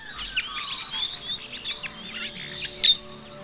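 Australian birds call along the Heysen Trail, a busy mix of quick, high chirps and whistled notes with one louder squawk near the end, heard over quiet outdoor ambience.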